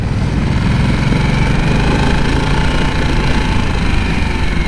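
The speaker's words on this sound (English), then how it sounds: "Totally different engine than the V-twin I would be used to." A 2024 Harley-Davidson Nightster Special RH975S motorcycle engine runs steadily and loudly throughout, a continuous close rumble with wind noise and no speech.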